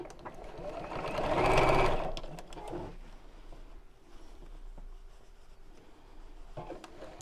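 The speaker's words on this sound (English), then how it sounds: "in fact that's where I'm going to start, and then let's sew all the way around" A sewing machine stitches around a reverse heart appliqué pouch, a close whirring burst that swells and then fades to quieter intermittent running with a few faint mechanical clicks.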